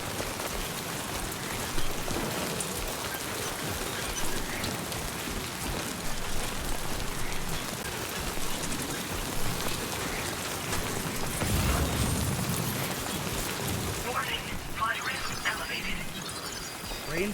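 Steady rain pours down in Death Stranding 2, a dense continuous hiss of drops on surfaces, fairly close and even throughout, with a few louder splashy swells and faint rumbles underneath.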